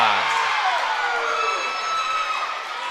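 Crowd noise at a high school volleyball match between O'Neill and Guardian Angels Central Catholic, a loud steady wash of cheering and shouting voices in a gym, fading slightly toward the end.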